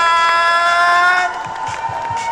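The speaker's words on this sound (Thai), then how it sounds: "ขอเสียงปรบมือและเสียงกรี๊ให้กับผู้โชคดีทั้ง 5 ท่าน" A live audience at a Thai game-show segment with Ling Ling cheers and shrieks for five lucky winners, a loud sustained crowd roar with high screams over steady tonal music.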